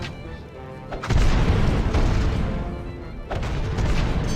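Ship cannons fire in a naval battle in the strategy game Rise of Nations, with two heavy booms about two seconds apart, each followed by a rolling rumble.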